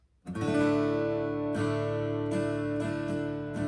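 Acoustic guitar strums the intro chords of a song, a ringing chord held after the first strum, then several more strums in an easy rhythm, close and clear with no voice.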